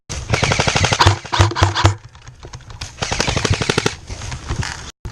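Rapid bursts of airsoft gunfire from a first-time outdoor airsoft game, loud and close, with several long rattling volleys broken by short pauses and shouting voices mixed in.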